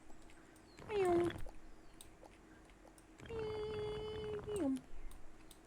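A person mimics a cat's meow with their voice, giving two drawn-out, whiny meows close to the microphone, the second one longer, with quiet pauses around them.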